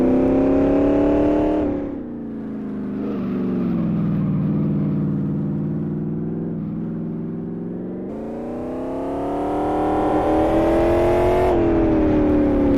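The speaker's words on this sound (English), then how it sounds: "the thing you always notice about the Cobra is the engine note" A deep, rumbling V8 engine of a Cobra in the racing game Live for Speed revs and drops, holding a sustained synthetic-sounding note that swells and eases over several seconds.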